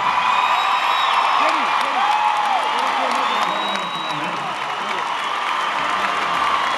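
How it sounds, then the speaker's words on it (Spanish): Applause and cheering from the crowd at a live concert, a loud continuous roar of clapping with whoops and shouts, while voices call out over it. "que llegue bien bonito el aplauso."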